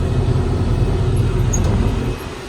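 A 5075 tractor running in slow gear while ploughing, a loud steady low engine drone with rumbling texture, close up, easing slightly near the end.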